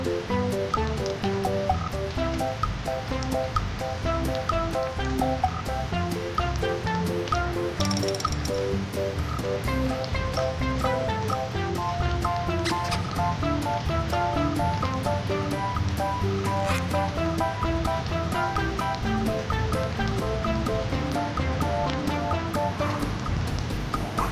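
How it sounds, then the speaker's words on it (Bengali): Rain falls over farm fields as a continuous, even wash of noise lasting about twenty-four seconds, heard beneath steady background music. "দেখে ভেসে এলো বৃষ্টি"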